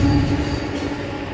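Freight train led by Horizon locomotives 6023 and 6028 rolling in, a steady, loud low rumble of engines and railcars with faint wheel squeal, close by and without talk.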